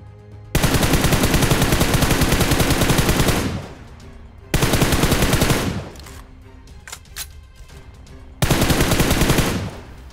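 Three long, loud bursts of rapid automatic gunfire from PUBG gameplay, each lasting a few seconds with short pauses between them.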